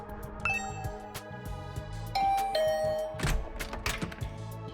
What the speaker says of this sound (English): I rang the doorbell and waited.